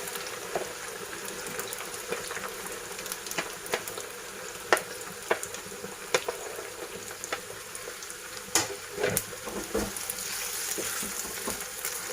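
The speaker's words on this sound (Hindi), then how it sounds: "अब इसमें हम पहले भिंडी फ्राई करेंगे।" Okra frying in oil in a kadai, a soft continuous sizzle with scattered crackles and occasional sharper taps of stirring, fairly quiet and without talk.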